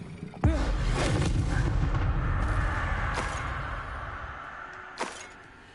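Blast-spell explosions in the Hogwarts Legacy video game: a sharp, heavy boom opens, then a long rumbling roar fades slowly, and a second, smaller burst hits near the end.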